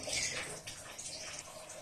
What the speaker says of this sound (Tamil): இப்போ நம்ம ரெஃப்ரிஜரேட் பண்ண வச்சிருந்த அந்த fresh cream and condense மில்கோட mix ஊற்ற போகிறேன்